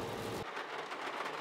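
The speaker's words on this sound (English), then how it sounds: "It just started raining really hard." Heavy rain pours outdoors during a storm, a dense, steady hiss of falling water on surfaces, with a low rumble fading out early.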